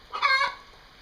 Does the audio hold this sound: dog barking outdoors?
no